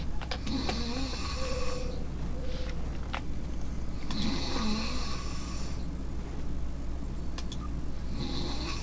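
A person snoring nearby in a room, with slow repeated rasping breaths over a steady low hum and faint mechanical noise, fairly loud and continuous, with no speech.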